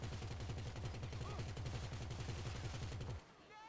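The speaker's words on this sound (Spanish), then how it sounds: "Alguien está disparando por ahí." Rapid automatic gunfire in GTA V, likely from a turret mounted on an Insurgent vehicle, rattles in a dense, loud continuous burst for about three seconds, then cuts off abruptly into quiet.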